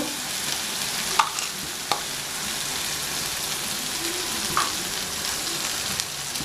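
Spices and kofta masala sizzle and fry in a pan for a steady stretch, with a few sharp scrapes and clinks from stirring. No one speaks.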